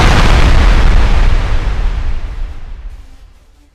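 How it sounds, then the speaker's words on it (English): A single explosion sound effect: a loud, deep, booming blast that rolls on and slowly fades away over about four seconds, with no voices. "That sounds like an explosion"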